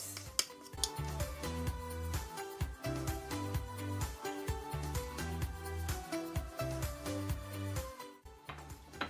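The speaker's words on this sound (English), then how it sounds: "you're gonna mix everything until well combined" A utensil scrapes and clinks against a bowl while old-fashioned stuffing ingredients are mixed together, a busy close rhythm of taps and scrapes under background music, with no talking.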